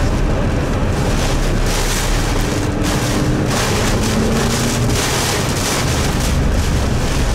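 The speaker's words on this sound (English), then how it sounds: "This wind is gnarly." Strong gusting wind during a tornado chase in the Texas Panhandle roars steadily and loudly across the microphone, a dense unbroken rush with no speech.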